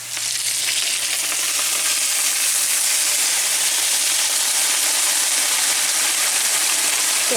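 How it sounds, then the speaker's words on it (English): Sauce mix simmering in a pan, a steady, close sizzling hiss that holds evenly throughout with no pauses. "Let it simmer in that for a little bit."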